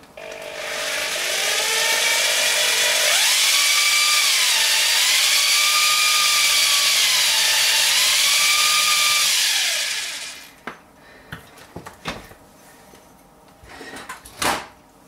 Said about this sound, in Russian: Осталось только высверлить.